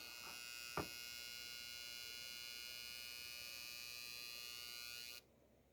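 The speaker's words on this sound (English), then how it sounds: "The downside is this is making a loud humming noise." A Ryobi 18V small power inverter hums loudly and steadily, a bright buzzing drone with a brief click early on, cutting off abruptly near the end to near silence.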